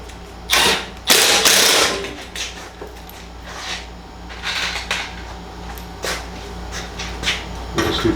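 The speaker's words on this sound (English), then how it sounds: "you need to secure it with at least 3 screws" Power driver running screws into a part of a Rinnai Demand Duo R series water heater; loud bursts of mechanical whirring and clicking alternate with quieter handling noises, close by, with no talking.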